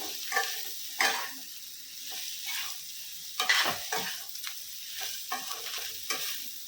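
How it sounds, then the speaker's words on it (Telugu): Ivy gourd (dondakaya) pieces are stir-fried with fried onions in a pan. Repeated scraping strokes of a spatula sound over a soft, steady sizzle, close and moderately loud. "ఇప్పుడు మన ఉల్లిపాయ కూడా వేగిపోయిందండి. వేయించి పెట్టుకున్న దొండకాయలు వేసేద్దాం."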